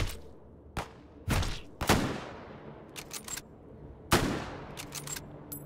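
Sniper rifle gunfire in the VR shooting game Hot Dogs, Horseshoes & Hand Grenades: several sharp, loud cracks spaced irregularly, each with a decaying echo tail, mixed with a few quicker clicks and handling noises.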